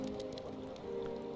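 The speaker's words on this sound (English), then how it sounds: "I was gonna say it's raining inside, but there are cracks inside of our base" Rain falling inside a base in the video game Hytale, a steady soft patter of drops on surfaces, fairly faint and even throughout, with no talking.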